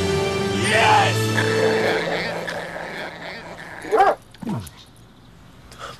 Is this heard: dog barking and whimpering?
yes